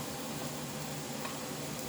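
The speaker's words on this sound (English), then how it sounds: "Give it a good stir." Vegetable curry sizzles steadily in a pan while being stirred, a dense continuous frying hiss with faint scraping, no voices.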